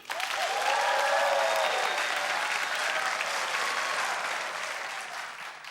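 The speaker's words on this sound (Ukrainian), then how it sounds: "Ваші оплески, друзі!" A theatre audience at a comedy sketch show in Lviv applauds warmly, with dense, sustained clapping that swells quickly and slowly fades over several seconds.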